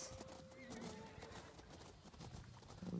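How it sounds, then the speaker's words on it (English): Horses clip-clopping and whinnying in a game landscape, hooves and a neigh fairly close, with faint background sound and a brief voice underneath. "Hey! Horses!"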